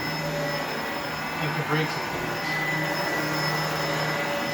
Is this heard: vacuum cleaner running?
yes